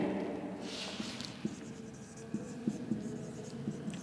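Chalk or marker taps and scratches on a board in short bursts during a botany lecture, faint and close over a quiet hum.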